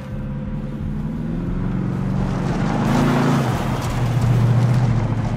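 Engine drone of vehicles driving in the shooter game Call of Duty Modern Warfare, a steady, fairly loud motor hum with shifting pitch that rises slightly toward the end, heard alone without talk.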